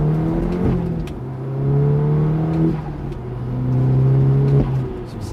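An Audi S3 engine revs hard through rising pitch sweeps, shifting gears a few times as it accelerates, loud and close with no talking.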